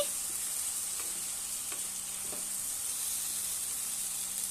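Small fried chuno fish stirred in a pan for a spicy fish jhal, giving a steady, even sizzle with faint scraping of the spoon. No one speaks.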